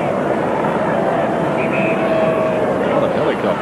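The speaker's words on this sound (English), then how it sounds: "Helicopters around the Whitten Oval this afternoon." Helicopters circle over the E.J. Whitten Oval during a 1996 AFL football match, a steady broad rotor and engine drone hanging over the ground throughout, with crowd noise and commentary mixed in.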